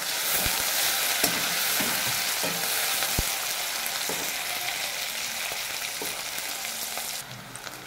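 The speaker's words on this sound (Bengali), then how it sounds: "দেখুন পেঁয়াজটা আমার ভাজা হয়ে গেছে লাল লাল করে" Onions frying in hot oil until reddish brown, a steady close sizzle with occasional crackles and stirring scrapes, with no talk.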